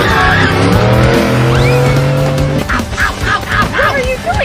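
Cartoon car racing along in a chase, with loud tire squeals and skidding over a steady engine drone, then a burst of quacking, honking goose-like squawks near the end.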